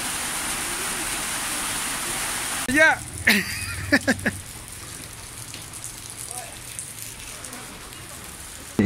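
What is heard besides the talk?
heavy rain in Copacabana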